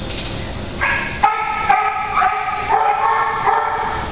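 A dog at an adoption shelter barks and yips several times over a steady background, its voice bright and close.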